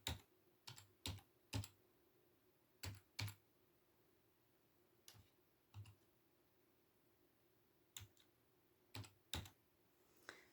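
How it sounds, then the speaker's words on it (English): Keys tapped on a computer keyboard while a password is entered, in a quiet room: about a dozen sharp, close clicks in short irregular bursts separated by pauses. "And then you enter your password."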